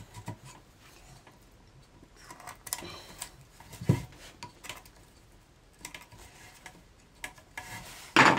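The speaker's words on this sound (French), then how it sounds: "je finis ici au ciseau à bois" A wood chisel pares wood on a workbench leg frame, giving soft scraping and rubbing strokes with a few sharper knocks and a loud clatter at the end, close and fairly quiet.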